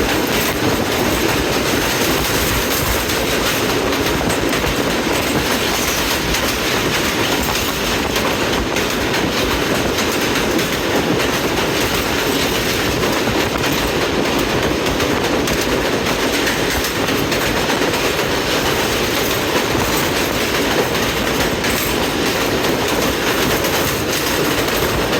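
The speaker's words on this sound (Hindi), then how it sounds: "अलेक्जेंड्रा ब्रिज से पास हो रही है ट्रेन" A train crossing Alexandra Bridge on the Rawalpindi to Wazirabad run, a continuous loud rumble with rattling wagons and wheel clatter that holds steady throughout, no voices.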